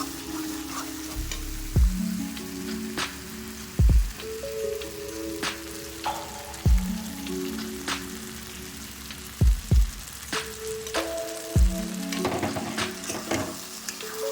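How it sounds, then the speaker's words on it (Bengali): Eggs crackle and sizzle in hot oil for an egg curry, a steady close frying hiss broken by a few louder bursts and scraping clatters, with a soft melodic tune running underneath. "তেলটা বেরিয়ে এসছে, এবার এর মধ্যে ডিমগুলো দিয়ে দেবো।"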